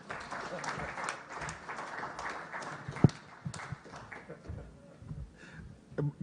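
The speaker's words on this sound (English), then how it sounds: "Again, another hand clap for my young brother." An audience at the launch of a refugee and host-community response plan in Uganda breaks into applause, a dense run of clapping under and between spoken voices, with one sharp bang partway through.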